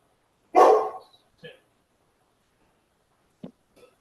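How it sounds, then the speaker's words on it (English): A dog gives one loud, close bark, then a few fainter yips and short sounds scattered across otherwise quiet seconds. "I think the dog agrees."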